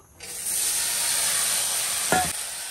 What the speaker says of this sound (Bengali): শুকনো লঙ্কা এই যে ভাজা হয়ে গেছে, কচুরলতিটা দিয়ে দেবো।